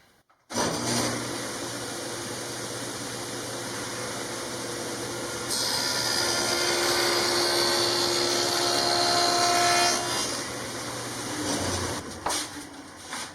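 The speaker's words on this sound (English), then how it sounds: "set up my table saw in such a way that I can make a few rabbets. Use my dado blade for that." A table saw fitted with a dado blade cuts rabbets in wood for an RV storage box, a steady loud whine that rises in pitch and grows harsher midway through the cut before spinning down near the end.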